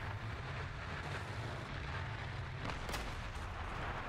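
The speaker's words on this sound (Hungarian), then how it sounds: "Megint ágyú." Tank cannon fire in War Thunder rumbles low and heavy under a steady engine drone, with one sharp blast standing out near the end; the sound is fairly faint and fairly distant.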